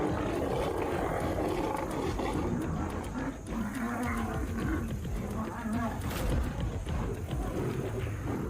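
Deep, rumbling roars from a lion, loud and sustained, with growls rising and falling over a noisy, continuous background.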